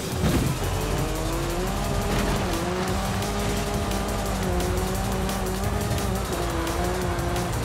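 A race car in Forza Horizon 5 drives flat out, its engine droning loud and steady throughout, with the pitch rising through the gears and tires squealing now and then.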